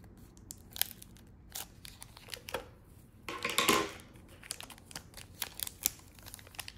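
A Pokemon trading card pack is cut open with scissors, giving scattered crinkles and snips of foil wrapper, then a louder tearing rustle midway, close and fairly quiet.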